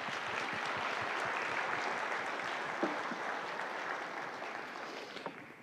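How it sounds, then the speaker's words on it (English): Lutheran church congregation applauding during worship: dense, sustained clapping from many hands fills the room for several seconds, then slowly tapers off. "We can applaud."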